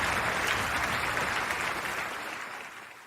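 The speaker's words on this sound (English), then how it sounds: "I had a great applause for you, dude." A canned applause sound effect plays during a live rock talk stream, dense steady clapping and cheering that gradually fades out toward the end.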